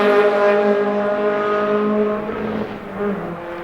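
Volkswagen race cars in a VW Challenge race roar down the main straightaway, a loud sustained engine drone with steady harmonics that shifts in pitch as the cars pass.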